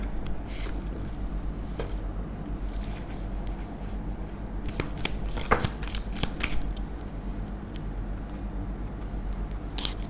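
Playing cards being shuffled and drawn from a deck, close soft riffling and slapping with scattered sharp snaps and card flicks over a faint steady background hum.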